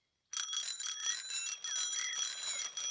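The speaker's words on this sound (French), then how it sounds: "À présent, le vélo de Freddy est équipé de 2 sonnettes." A cartoon bicycle fitted with two bells rings in a bright, rapid, repeated trill that lasts nearly three seconds, clear and alone.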